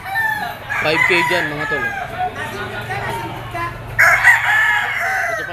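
A yellow-legged rooster crowing at a Lipa auction market, two drawn-out crows in quick succession, loud and close, with someone talking over and between them.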